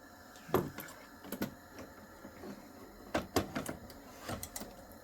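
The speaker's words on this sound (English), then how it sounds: "Let me pull this out while that bobbin's winding." A sewing machine runs in short bursts while winding a bobbin, with uneven mechanical clatter and ticking close by and no talking.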